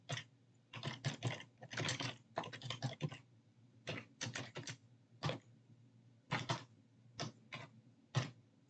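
Code being typed on a computer keyboard, with quick bursts of close, crisp keystrokes separated by short pauses, fairly quiet and with no talking.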